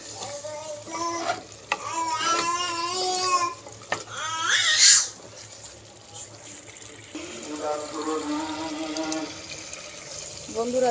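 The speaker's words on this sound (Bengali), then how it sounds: "এভাবে কষতে থাকবো, অল্প অল্প জল দিয়ে কষতে থাকবো" Beef and potato curry sizzling in a pan while being stirred and sautéed with small splashes of water, a bubbling, frying hiss with scraping stir strokes, loudest midway, and a voice speaking over parts of it.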